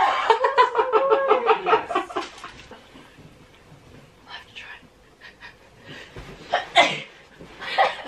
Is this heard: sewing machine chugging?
no